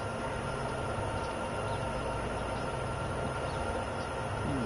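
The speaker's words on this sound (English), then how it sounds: "So that's the train." A train locomotive idles on Sherman Hill in Train Sim World 2 while air pressure builds, a constant loud broadband rumble and hiss with no break.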